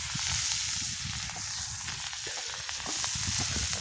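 Chopped chickpea-leaf greens fry on a hot griddle (tava), giving a steady, close sizzle with crackling pops and occasional stirring scrapes, with no voices.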